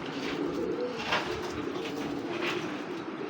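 Soft, steady cooing from a Jabra-style pigeon among a collection of pigeons for sale, with low throaty coos repeating over a constant background hum, fairly faint and with no talk.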